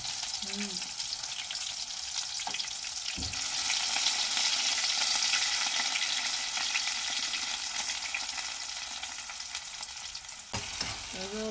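Chopped onions and tomatoes fry in a pan for patra dhokla, giving a constant loud hiss for the whole stretch, with light stirring and a brief faint voice near the start and end.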